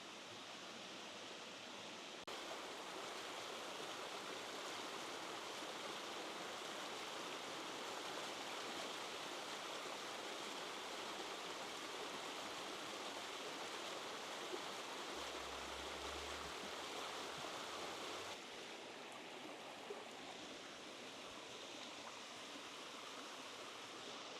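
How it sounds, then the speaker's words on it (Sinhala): Bisodola waterfall in Sri Lanka roars in a constant, loud, broadband rush of falling water that fills the whole stretch, steady and unbroken with no talk. "ඉතින් මේ තමයි බිසෝදොල ඇල්ල."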